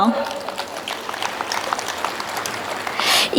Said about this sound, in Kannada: ಈ ಪ್ರದರ್ಶನಕ್ಕಾಗಿ ನಮ್ಮ ಕಲಾವಿದರಿಗೆ ಭರ್ಪೂರ ಚಪ್ಪಾಳೆಗಳನ್ನು ನೀಡೋಣ